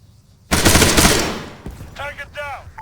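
Loud burst of machine gun fire from ArmA 3 combat, a dense rapid volley lasting about a second before trailing off, followed by brief voice chatter.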